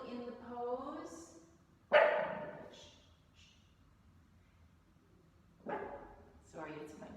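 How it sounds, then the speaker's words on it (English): Pet dog barking in response to another dog outside during a quiet indoor session: a few sharp barks and yips spaced across several seconds, separated by stretches of near silence. "She heard a dog barking outside and she has to respond."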